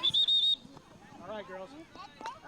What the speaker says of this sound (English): Quick whistle.